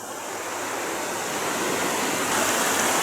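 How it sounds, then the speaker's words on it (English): Garden Creek Waterfall on Wyoming's Casper Mountain roars close by, a steady, full broadband rush of falling water that swells slightly louder toward the end, with no voices. "I'll give you a few different views of the waterfall."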